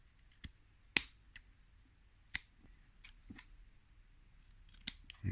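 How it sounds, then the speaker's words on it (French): Sharp scissors snip through cotton wick ends for a vape tank, a handful of crisp, close cuts spaced irregularly against quiet surroundings. "On vient couper les pointes."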